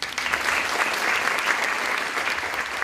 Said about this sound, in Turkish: Lütfen kendinizi alkışlar mısınız?